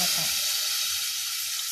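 Coconut milk pours into a hot pot of taro, and a steady, close hiss of sizzling and bubbling carries on without a break through the short moment.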